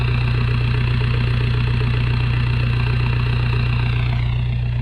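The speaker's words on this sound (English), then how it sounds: "TDI straight pipe for the win." A Mk4 Jetta TDI diesel with a straight-pipe exhaust idles loudly and close, a steady, rapid low-pitched clatter that runs unbroken throughout with no talk.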